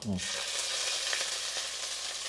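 Mustard seeds and curry leaves sizzle in hot oil, a loud, dense, continuous crackle that holds steady from start to finish with faint scattered pops and no speech.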